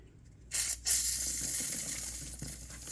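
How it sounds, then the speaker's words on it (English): Degreaser is sprayed onto the drive chain of a 2021 Ninja 400 motorcycle, starting with a sharp spurt and then settling into a steady, close hiss. "you spray the degreaser on the chain"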